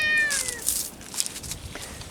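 A pet cat gives one short, clear meow up close at the start, followed by soft, noisy indoor background.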